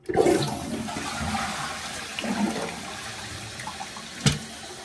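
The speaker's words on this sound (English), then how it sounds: "We'll flush." A toilet with a newly fixed slow-fill problem flushes with a loud rush of water that swirls and drains, settling into a steady refill hiss and ending on a sharp knock.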